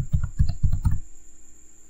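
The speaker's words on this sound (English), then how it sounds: "So now I type my password." A password being typed on a computer keyboard, about a dozen quick, close key clicks in a brisk run lasting about a second, then quiet.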